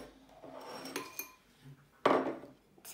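A metal whisk stirs pancake batter in a bowl, making close, irregular light clinks and scrapes, then a louder, rougher scraping swirl near the end; no one speaks.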